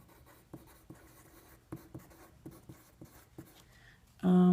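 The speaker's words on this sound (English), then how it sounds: "There's a lot of writing." Pen or pencil scratching across a math worksheet in a quiet room, a series of short scribbling strokes in uneven rhythm, close and clear, ending with a sudden loud burst at the very end.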